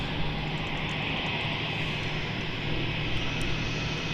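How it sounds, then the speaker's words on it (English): Jetstar airliner JQ17 taxiing for takeoff at Melbourne Airport, a steady, loud engine roar and whine holding evenly throughout with no voices. "JQ17 taxiing to take off."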